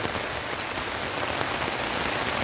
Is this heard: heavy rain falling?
yes